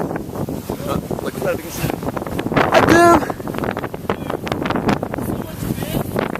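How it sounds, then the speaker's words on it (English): Strong wind buffets the microphone on a blustery day, a loud constant roar and rumble while people talk over it. "It is so windy today."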